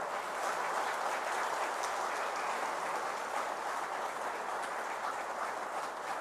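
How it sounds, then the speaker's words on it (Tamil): Sustained crowd applause at a professionals' gathering in Coimbatore, a steady dense wash of many hands clapping together, fairly distant and even in loudness throughout with no voices on top. "நல்ல ஒரு கைத்தட்டு கொடுங்க."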